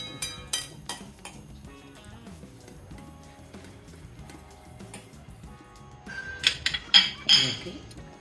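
A spoon stirs quail egg masala in a bowl, giving light clinks and scrapes of metal on the dish that grow louder and busier near the end.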